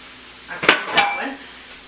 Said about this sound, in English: I'm just going to add my celery and my onions and garlic